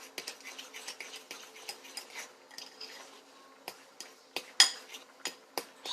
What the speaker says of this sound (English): Okay, now we're going to mix this up.